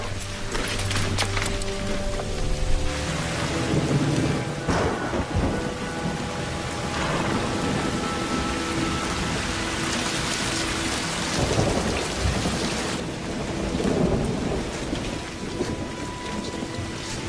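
A heavy thunderstorm with loud, continuous rain hammering down, broken by rolling rumbles and sharp cracks of thunder throughout, with no voices.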